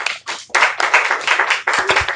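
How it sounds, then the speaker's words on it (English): Audience clapping in a live podcast room, ragged and uneven bursts of applause that start, pause and restart, close and fairly loud with no talk over it. "That was the ugliest clap for so many people."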